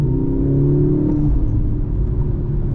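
A 2023 Mercedes C63 AMG pulls hard on a night drive, its engine a deep, loud rumble that rises and then settles into a steady drone from inside the cabin.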